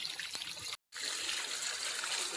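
Water runs steadily from a pipe outdoors, a continuous close hissing gush that cuts out for an instant and then resumes.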